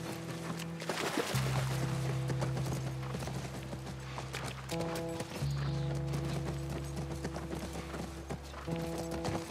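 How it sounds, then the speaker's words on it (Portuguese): Horse hooves clip-clop steadily while riding through a level of The Last of Us Part 1, with a low, constant game ambience humming underneath and no talk over it. "Guiar o cavalo aqui não é muito fácil não"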